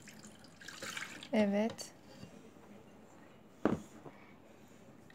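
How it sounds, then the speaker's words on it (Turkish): Milk poured from a glass into a container while making a smoothie, a soft, fairly quiet splashing pour with brief spoken words nearby. "Bir bardak sütü koy bakalım bunun içine."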